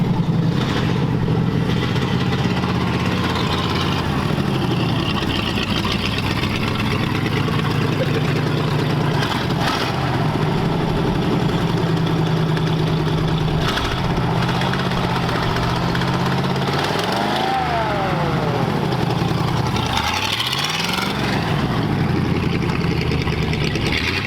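An early Ford engine on a 1936 chassis runs steadily, a loud, continuous mid-pitched rumble with slight shifts in speed and occasional revving surges, no talking over it.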